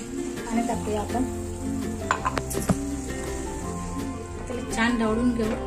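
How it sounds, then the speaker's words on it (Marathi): Ground masala paste with water is stirred in a pot, a light sizzle under scraping and clinking of the spoon, with faint tonal background sound and no clear talk. "छान ढवळून घेऊ"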